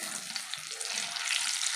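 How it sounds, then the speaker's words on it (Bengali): Cinnamon and cardamom sizzling in hot mustard oil in a wok, a dense, steady crackling hiss close up that fills the whole short moment with no voices. "তেলটাও গরম হয়ে গেছে। এইবার দিয়ে দেবো দারচিনি আর এলাচ।"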